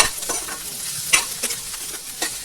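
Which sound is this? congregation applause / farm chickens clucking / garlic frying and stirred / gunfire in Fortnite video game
garlic frying and stirred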